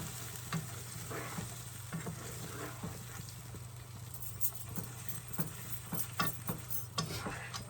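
Jollof rice with roasted peppers stirred as it cooks down in a pot: a quiet, soft sizzle with light scraping and clicking spoon strokes at an uneven rhythm.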